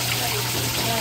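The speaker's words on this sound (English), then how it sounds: "I'm splashing." Water splashes and rushes in a steady wash of noise, close and continuous, with a voice faintly present underneath.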